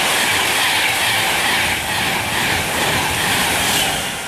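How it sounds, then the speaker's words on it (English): A Virgin Trains Pendolino, an 11-car train, passes through Cheddington station at speed, a loud, sustained rushing roar with rhythmic wheel clatter that swells and eases slightly. "Next train to come through is a Virgin Trains Pendolino to London Euston."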